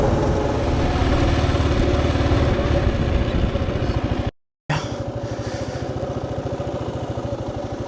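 A motorcycle engine idles close by with a steady, loud, even chug, broken by a brief gap of silence before the running resumes.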